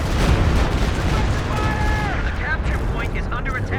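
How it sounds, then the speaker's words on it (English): A walking Stuka rocket barrage in Company of Heroes 2 pounds the ground in a rolling series of explosions and booms, loud and continuous, with shrill whistling streaks mid-way. "here comes the walking Stuka barrage"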